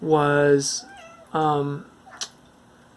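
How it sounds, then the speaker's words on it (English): House cat meowing twice in clear, drawn-out calls, followed by a faint short sound, all indoors with a person briefly talking nearby. "that's my cat in the background. I don't know if you can hear him."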